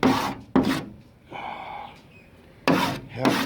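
A brief rough scratching rubs across a surface that was scuffed up with a sander, faint and lasting about a second, with short bursts of voice just before and after.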